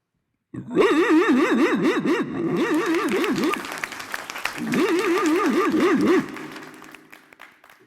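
A voice imitates a large Alsatian dog barking and growling in two long wavering bursts, loud and close, with a brief pause between them.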